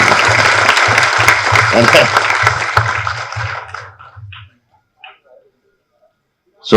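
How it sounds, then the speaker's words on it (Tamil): Applause from an audience at a speech, loud and steady at first, thins out and fades to a few scattered claps before near silence. "கொள்ளு பேரனுக்கு ஒரு கைத்தட்டு"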